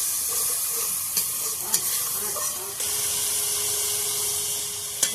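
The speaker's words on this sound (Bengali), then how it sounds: "মশলাটা ভালো করে কষিয়ে নেব।" Spice paste (masala) frying in a pan for banana flower kofta makes a continuous close hiss, with a few sharp scraping clicks from stirring spread through it.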